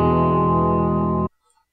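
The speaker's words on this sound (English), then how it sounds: "the audio file itself still has the reverb from that chord ringing out over it" A loud, sustained electric guitar chord rings out thick with reverb, then is cut off abruptly after about a second and a quarter, leaving near silence with a few faint blips.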